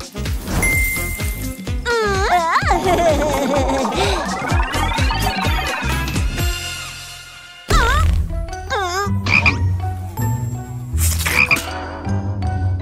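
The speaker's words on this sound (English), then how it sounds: "This is the mouth of a frog." A cartoon frog in a kids' cartoon croaks in loud, springy bursts, mixed with sliding whistles, dings and clinks, punchy and close.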